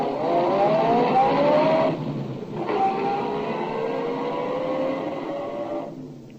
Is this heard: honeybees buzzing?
no